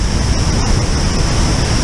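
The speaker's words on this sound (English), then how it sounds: "Now you can really see the power of one of these waterfalls that takes control of a whole river" Waterfall on the North Fork Sauk river roaring, a loud, close, continuous wash of falling water with no break or voices.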